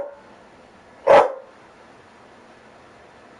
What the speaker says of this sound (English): Why you got the dog acting like that again?